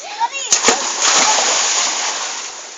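People jumping into water at a swimming spot make a couple of sharp splashes, followed by a long, sustained wash of churning water, with children's voices calling out close by.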